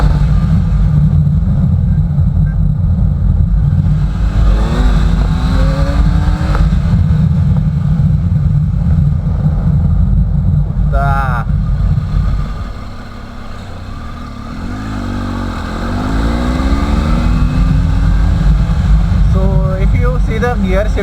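A Triumph Tiger motorcycle fitted with an Arrow exhaust rides at speed, its loud, close engine drone rising and falling through revs, dipping briefly partway then climbing again, with wind rush and talk over it.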